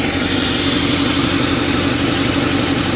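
A brand-new, hail-damaged VW with only 13 miles on it idles steadily with its parking brake set, giving a constant, even engine hum close by with no speech over it.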